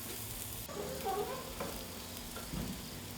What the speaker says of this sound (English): The grill is nice and hot. We're going to place our zucchini down.